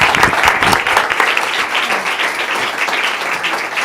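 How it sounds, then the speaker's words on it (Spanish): Audience at a health and care session applauds, a dense, loud burst of clapping that carries on steadily throughout. "Yo quería pedir un aplauso para Ana"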